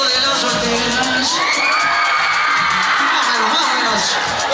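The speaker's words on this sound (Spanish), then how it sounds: "Y el grito de las solteras" Single women at a party shout and cheer together: loud, continuous high-pitched whoops and yells from a crowd, close and dense, with voices blending throughout.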